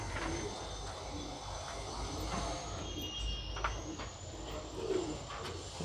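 Sherazi breeding pigeons coo steadily in a coop for sale in Hyderabad, soft repeated calls over a constant background hum, with faint chirps scattered throughout and no talking.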